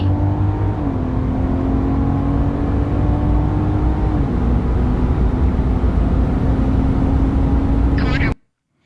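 A Dodge Charger AWD Hellcat, 650-plus horsepower and fitted with a DiabloSport tuner, accelerates hard at full throttle; the loud, steady engine roar climbs through a couple of gear changes before cutting off abruptly.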